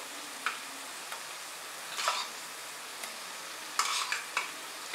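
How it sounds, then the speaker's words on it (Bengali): Whipped sour yogurt is stirred into okra frying in a pan for bhindi do pyaza, producing a faint low sizzle broken by several sharp spoon scrapes and taps at uneven intervals. "এবার আমি এর মধ্যে অ্যাড করছি ফেটিয়ে রাখা টক দই।"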